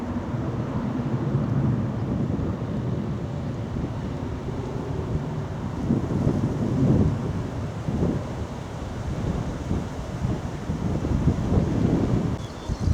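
Wind blows steadily across open downland fields near Luton, a constant broadband rush with heavier buffeting gusts on the microphone through the second half.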